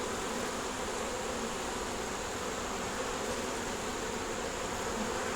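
Honeybees swarm around a nuc box hive in a dense, continuous buzz, loud and close, with no pauses or voices.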